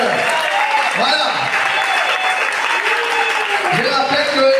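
Warm audience applause with acclamations at a church service welcoming a sister to the front, moderate clapping running throughout with voices calling and speaking over it.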